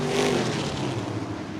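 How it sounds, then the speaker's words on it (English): Sprint cars accelerate at the start of a heat race on the front stretch, giving a dense, roaring engine wash that holds steady for under two seconds, heard from a distance with no talk. "12 laps of sprint car action as they hit the front stretch"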